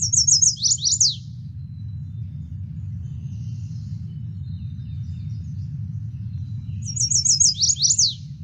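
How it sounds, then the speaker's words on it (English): Two bursts of chestnut-sided warbler song, a quick run of high sweet notes ending in an accented downslur, one at the start and one near the end, over a steady low rumble of background noise. "Let's hear the chestnut-sided warbler first."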